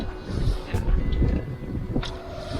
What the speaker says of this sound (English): We actually have some wind, eh?